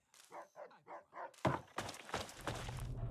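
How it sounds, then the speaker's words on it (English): Dogs bark in Fallout 3: four evenly spaced barks ring out close and clear, followed by a sharp thud and a burst of noisy, crashing game action. "Oh my god, they have dogs here."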